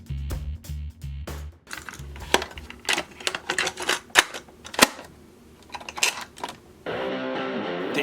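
Typewriter keys striking in irregular bursts while a letter is typed, sharp close clacks with pauses, ending with a loud electronic buzzing tone.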